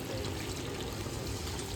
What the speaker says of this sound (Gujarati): નાખી દો પાણી